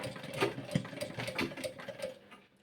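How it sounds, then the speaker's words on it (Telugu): A sewing machine stitches a homemade fabric hair band, its quick rhythmic whirr and needle clatter running close and moderately loud for a couple of seconds before easing off. "ఇలా ఇప్పుడు కుట్టేసుకుందాము"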